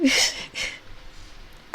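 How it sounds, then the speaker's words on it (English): A single short sneeze bursts out sharply, followed by a brief breathy exhale and then quiet. "And that's why I sneezed."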